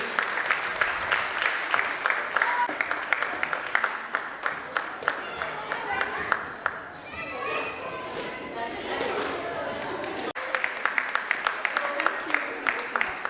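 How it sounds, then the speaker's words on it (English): A crowd at a Kumon student award ceremony applauds, sustained clapping from many hands with a brief lull and murmuring voices midway before the clapping swells again. "So please give a huge round of applause for Angadveer"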